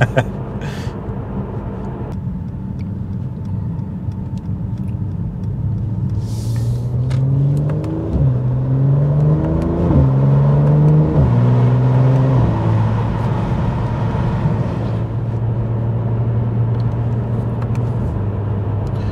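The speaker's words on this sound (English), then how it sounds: "this video is somehow turned into a let's drive through this tunnel and get pops and bangs" A car revs hard inside a road tunnel, its engine note rising and falling through repeated gear changes with echoing rumble, while exhaust pops crackle in between and a voice speaks over parts of it.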